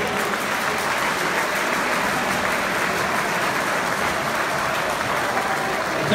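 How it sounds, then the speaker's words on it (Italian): Steady, dense audience applause in a hall during a youth basketball tournament final ceremony, a continuous even wash of many hands clapping at moderate loudness without a break. "voglio un applauso a tutti"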